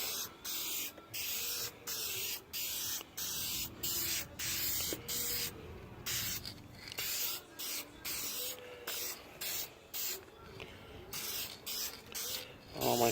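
Short bursts of aerosol spray paint hiss on and off in a steady rhythm as a light coat goes onto a 1997 Ford Mustang Cobra convertible's cup holder outdoors, close and fairly loud.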